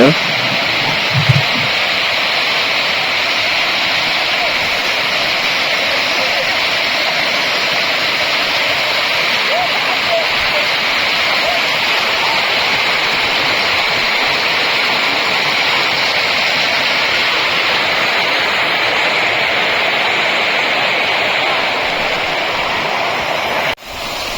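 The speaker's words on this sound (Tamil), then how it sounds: "இதுல பாருங்க தண்ணி வர சவுண்டு எவ்வளோ சவுண்டா கேக்குன்னு மட்டும் பாருங்க" A loud, steady roar of rushing water from the Anai Maduvu waterfall near Salem, continuous and close, filling the whole stretch without letup.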